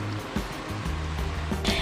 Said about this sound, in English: the energy of water falling from these majestic rocks